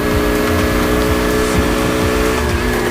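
A Romet Pony 50 moped, still being broken in, is ridden on asphalt. Its small engine buzzes continuously and loudly up close, with slight wavering in pitch.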